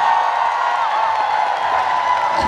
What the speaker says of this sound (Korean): 잘한다 생각하시면 박수 한 번만 주세요